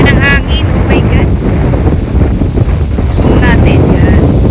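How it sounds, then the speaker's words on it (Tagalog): Strong wind buffets the microphone outdoors at Lake Louise in Canada, a steady loud roar with gusty low rumble throughout, while a voice speaks briefly over it. "Ayan ang hangin."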